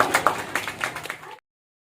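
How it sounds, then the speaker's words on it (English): Scattered clapping from the audience at a school Earth Day assembly, a brief burst of uneven claps that cuts off abruptly into silence. "Give them a big round of applause."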